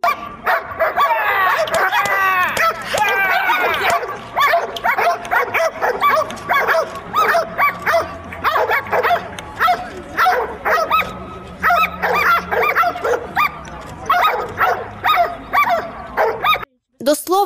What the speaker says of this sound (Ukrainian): У підрозділі є сім собак.